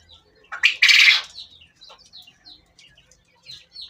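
Japanese quail call up close: one loud, harsh burst of squawking, followed by a scatter of short, fainter chirps.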